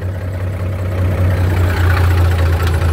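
An M816 wrecker truck's heavy diesel engine idles in a steady, loud low rumble that holds constant throughout with no talking.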